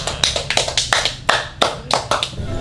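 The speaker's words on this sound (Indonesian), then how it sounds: "tepuk tangan" Children at an online Sunday school session clap their hands in a quick rhythmic pattern, a run of about a dozen sharp, close claps with no talking over them.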